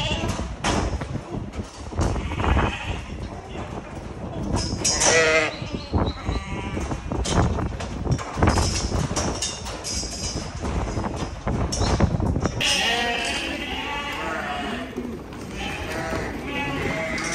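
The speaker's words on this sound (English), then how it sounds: "Ewes are coming off the land." Dense chorus of ewes bleating in a shed on an Australian sheep farm, many overlapping calls with shuffling and movement throughout, loud and close.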